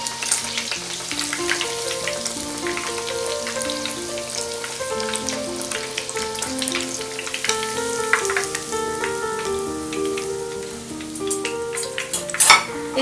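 Fish fries in hot oil with a constant crackling sizzle and scattered pops, backed by steady melodic music with no talking.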